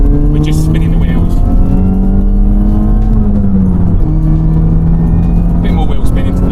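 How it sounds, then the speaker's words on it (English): An old Mini hatchback accelerates hard in second gear with the wheels spinning: a loud, steady engine drone with a buzzing, harmonic tone that holds and shifts slightly in pitch from inside the car. "this is a second gear pull. We're in a 60. We're just spinning the wheels."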